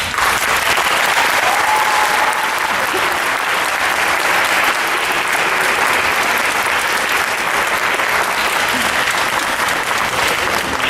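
A university audience delivers a long, loud round of applause for Bobby Seale, dense continuous clapping from a large crowd with an occasional cheer rising above it.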